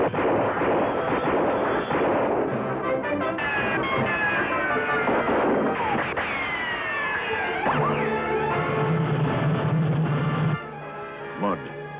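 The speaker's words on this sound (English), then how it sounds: "Rifle fire from Dragon." Rifle fire in a radio drama, a repeated volley of cracks and booms under dramatic orchestral music that dominates throughout, with a tonal musical sting near the end and no clear talk.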